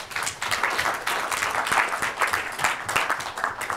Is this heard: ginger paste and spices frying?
no